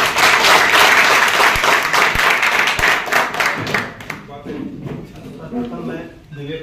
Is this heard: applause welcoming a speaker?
yes